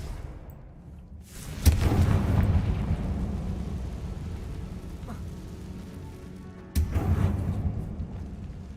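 A Confringo blasting spell explodes in Hogwarts Legacy: a sudden heavy boom with a low rumbling tail, followed a few seconds later by a second, similar burst. Both are loud and close.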